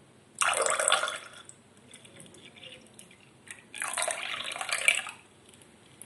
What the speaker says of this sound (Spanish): A continuación echaremos unos 100 ml de aceite y otros 100 ml de agua.